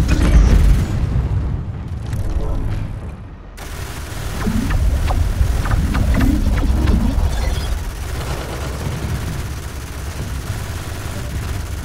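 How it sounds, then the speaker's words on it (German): Space combat in EVE: Valkyrie on PlayStation VR, with a steady stream of booming blasts and rapid weapon fire as enemy ships are shot down, loud and continuous with dense rumbling explosions throughout. "Ich schieße sie einfach ab."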